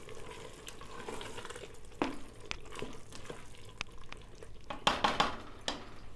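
Mutton liver masala, finished with a squeeze of lemon, is stirred in a hot pan. A steady sizzle runs beneath it, with scraping strokes of the spoon that grow louder and more frequent toward the end.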